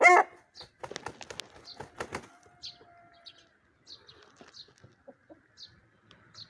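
A rooster gives one loud crow right at the start, followed by scattered wingbeats, clucks and faint chirps from other fowl.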